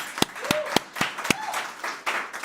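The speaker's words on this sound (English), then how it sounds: "let's give you a round of applause" Graduation ceremony audience for a BCom class of 2022 breaking into applause, with a handful of sharp, loud claps standing out over a softer spread of clapping across the hall.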